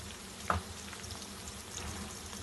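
Onions softening in a pan with a little turmeric, a quiet, steady close sizzle with one brief knock of a utensil near the start.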